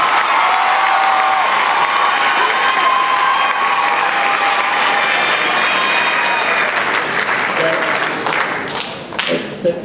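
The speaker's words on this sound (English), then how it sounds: "Give them a big hand." An audience applauds and cheers for the color guard staff at a high school marching band awards event, a dense, steady wash of clapping that lasts nearly ten seconds before starting to thin at the end.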